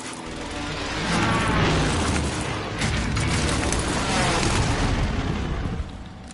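Airstrike explosions in a war video game, a loud, sustained rumbling roar of blasts that swells and rolls on for several seconds with no clear gaps.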